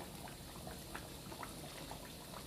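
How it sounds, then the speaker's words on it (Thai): Bananas frying in hot oil, a faint, steady bubbling and crackling hiss with small soft pops, heard alone at low volume. "ได้เวลาลงทอดแล้วครับ"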